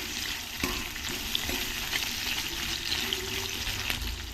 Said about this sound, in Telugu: ఉల్లిపాయ ముక్క పెద్ద కట్ చేసుకొని కొద్దిగా లైట్గా వేయించుకోవాలి.